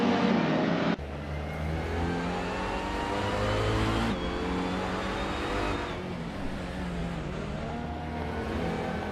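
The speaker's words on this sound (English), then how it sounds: "Everlasting Apex is driving a 1992 Citroën AX GTI" 1992 Citroën AX GTI racing in a video game, a steady buzzing engine drone with shifting pitch as it revs through gears, joined by other cars' engine noise in a continuous race mix.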